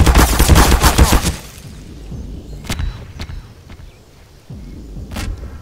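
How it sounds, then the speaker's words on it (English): An automated turret in Garry's Mod fires a dense, loud burst of rapid shots that cuts off after about a second, followed by a few scattered, fainter single bangs and thumps. "I hate those turrets!"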